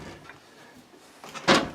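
A drawer in a small off-grid cabin slides and thuds shut close by, with a few soft knocks before a sharp closing bang near the end.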